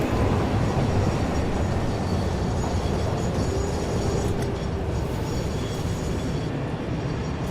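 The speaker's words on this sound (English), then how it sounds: "the train's pretty dang loud" A train rolls steadily in the Satisfactory video game, a loud, constant rumbling wash with faint rail clatter that fills the whole stretch.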